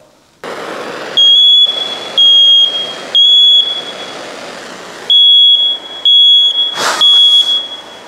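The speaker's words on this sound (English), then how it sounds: "Let me get some fire and put under here and see if we can make it go." An old smoke detector with a flame held beneath it shrieks in a series of loud, shrill electronic beeps, sounding in five or six uneven bursts separated by short gaps.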